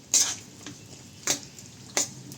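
A spoon stirs a tamarind and jaggery mixture in a pan, giving three sharp metallic scrapes and clinks spaced about a second apart over a quiet background.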